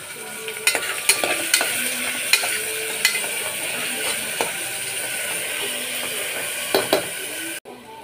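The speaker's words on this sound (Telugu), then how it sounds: "దాని తగ్గ అల్లం వెల్లుల్లి పేస్ట్ ఆయిల్ వేసానండి" Ginger-garlic paste sizzles in hot oil for a mutton curry, a steady close frying hiss broken by light metallic clinks of stirring at irregular intervals.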